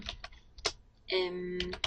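Words typed into an Excel spreadsheet on a computer keyboard, scattered close key clicks in short bursts, while a person talks over part of the typing.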